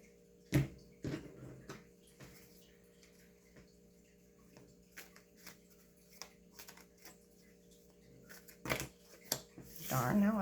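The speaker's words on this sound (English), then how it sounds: "I was just giving a quick shuffle." Tarot cards being shuffled by hand in a few brief, sharp riffling bursts with quiet pauses between, close and fairly soft, with some faint handling noise at the end.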